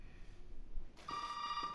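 A telephone rings in Resident Evil 7, starting after about a second of quiet room ambience and continuing as a steady, fairly loud electronic bell tone to the end.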